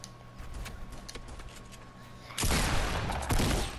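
Gunfire in the video game Fortnite Battle Royale breaks out as a sudden loud burst of rapid shots, continuing in a dense, sustained volley after a quieter stretch.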